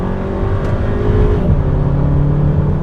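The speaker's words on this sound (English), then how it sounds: "This is the EA 888 motor." A VW Polo GTI's EA888 four-cylinder engine revving in sport mode, a steady droning hum that climbs slightly then settles, heard close and loud from inside the car without talk.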